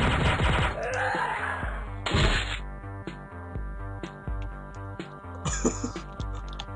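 Rapid gunfire in a shooter video game, loud repeated shots in quick bursts over a pulsing game soundtrack, with heavy blasts near the start and again near the end.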